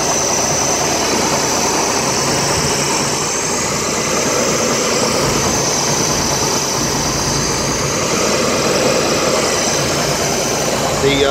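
A 1966 Chevrolet Corvair engine fitted with an inline fuel pressure regulator runs steadily, a loud, dense, unbroken drone and whir filling the whole stretch with no talking.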